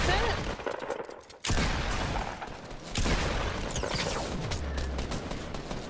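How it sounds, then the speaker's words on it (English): Fortnite gunfire crackles through a dense, noisy game mix, with bursts of shots and a sharp impact or two amid steady background clatter. "Why do people keep shooting at me?"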